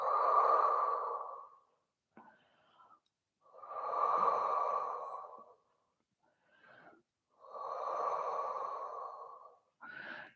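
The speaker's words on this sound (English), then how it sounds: "And just take some deep breaths here." Slow, deep breaths during a Pilates stretch: three long, close breathy exhales with quieter inhales between them, evenly paced and heard alone.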